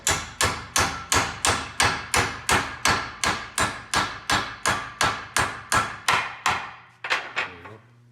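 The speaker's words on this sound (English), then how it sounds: "So I'm gonna try the hammer." A hammer tapping a polyurethane bushing into an MK4 control arm, about sixteen sharp, evenly spaced metallic strikes close up, then a brief pause and a couple of final hits.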